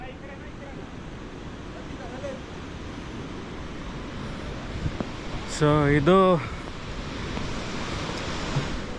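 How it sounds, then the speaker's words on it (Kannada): River water rushes through the Mekedatu gorge in the rainy season as a steady broadband roar heard at a distance, while someone speaks briefly over it. "ಇಲ್ಲೇ ನೀರು ಹೋಗೋದು"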